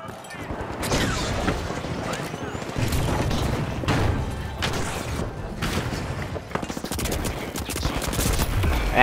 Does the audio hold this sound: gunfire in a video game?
yes